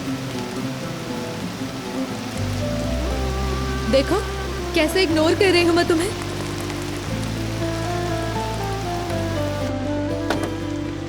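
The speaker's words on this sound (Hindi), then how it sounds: "जरा एक नजर देखो, बारिश कितनी तेज है यार।" Heavy rain pours steadily throughout, a dense hiss with music playing over it and someone speaking briefly midway.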